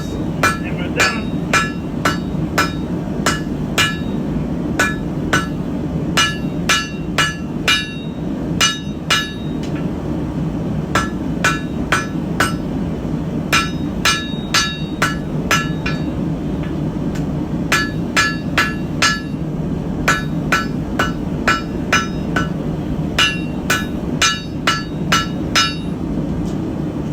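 A hammer forges a hot iron knife guard on an anvil, sharp ringing metallic strikes falling in quick repeated bursts with short pauses between them, loud and close over a steady low background hum.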